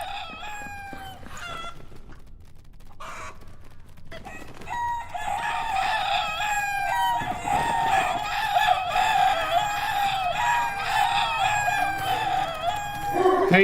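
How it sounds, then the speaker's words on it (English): A chicken clucks and then crows repeatedly, loud and near, with bright layered calls over a steady background of fowl noise. "we hear a chicken"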